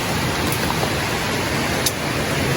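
Steady rain falls outdoors near a bridge in Bukidnon, a dense, even hiss that runs the whole time with no talk, broken only by a couple of faint brief ticks.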